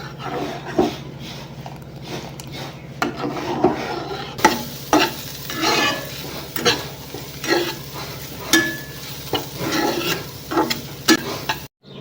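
Soaked, rinsed rice goes into a pot of thickened carrot payesh being cooked for a Makar Sankranti offering. Regular, close stirring strokes rise and fall about once a second over a low simmering sizzle.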